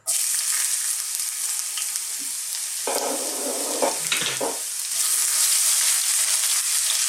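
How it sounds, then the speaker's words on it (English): Ginger sizzling and frying in hot oil in a wok, a steady loud crackle throughout with brief stirring and scraping bursts in the middle, no talking. "We're going to start off by putting our ginger in."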